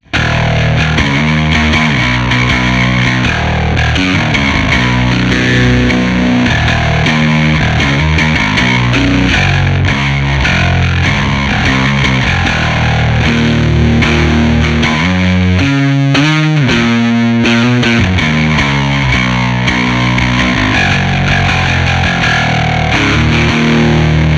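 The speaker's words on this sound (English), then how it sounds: "Let's just go ahead and max out the drive as well." Guitar through a Behringer TO800 Vintage Tube Overdrive pedal with drive maxed and tone turned up plays a long run of thick, saturated chords and riffs, loud and steady throughout with no talking.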